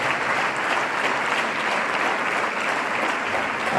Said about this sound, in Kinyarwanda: Abashyitsi wakomera amashyi menshi cyane